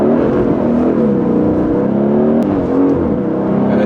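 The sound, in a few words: Aston Martin with AMG engine revving in track mode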